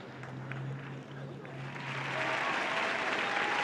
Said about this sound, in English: let's have a round of applause for young Sergio Halls